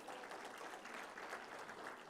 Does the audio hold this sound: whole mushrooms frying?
no